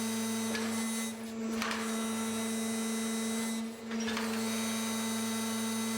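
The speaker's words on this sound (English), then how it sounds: "The rod is now extracted by the rotation unit using the same control as used earlier." Rotation unit of a 130 exploration drilling machine extracting a drill rod, giving a loud, steady mechanical hum with a constant tonal drone and two short dips in level.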